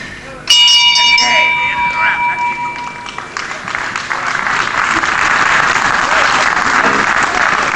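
A wrestling ring bell clangs once, sharp and loud, at a televised 1977 British professional wrestling bout, its ringing tone fading over a few seconds before a roaring crowd takes over with sustained applause and cheering.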